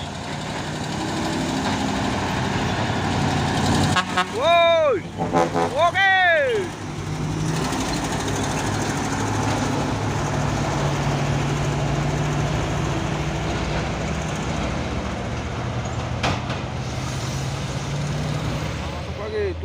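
Two trailer trucks hauling containers climb the Bukit Korok hill together, a steady loud engine drone throughout, with brief short shouts from a man near the start.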